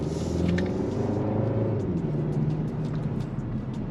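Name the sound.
2023 Kia K5 GT Line driving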